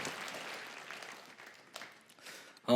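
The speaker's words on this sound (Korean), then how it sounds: "서로를 바라보면서 축복의 박수를" Applause from a church congregation, a soft steady patter of clapping that fades out before a sudden louder noise at the end.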